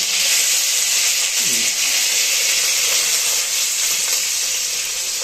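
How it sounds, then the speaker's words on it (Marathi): Ginger garlic paste and onion sizzling loudly in a pot of oil for a Konkani chicken biryani, a dense continuous hiss close by with a brief stir partway through. "आता जिंजर गार्लिक पेस्ट टाकतोय आपण कांदा टाकतोय"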